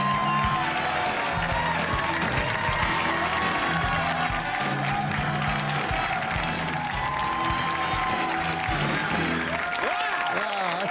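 A talk-show studio audience applauds and cheers loudly as a guest comedian walks out, a dense sustained wash of clapping and whoops with music and voices mixed in throughout.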